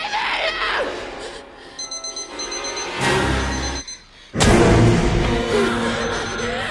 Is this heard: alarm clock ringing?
yes